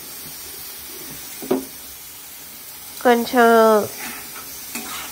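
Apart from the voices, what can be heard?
prawns being stirred and fried in oil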